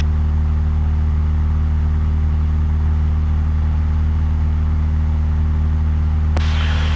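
A Cessna light aircraft engine in flight gives a loud, steady low droning hum heard from inside the cabin, unbroken from start to end.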